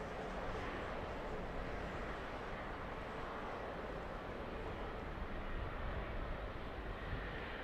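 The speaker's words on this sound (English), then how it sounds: "So as we see another aircraft turning on, that one from the south with the left-hand bank" A jet airliner banking left as it turns onto final approach into Heathrow Airport in evening sun, a steady, broad engine roar that holds at an even, fairly distant level throughout.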